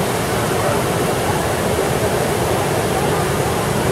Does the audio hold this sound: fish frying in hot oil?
no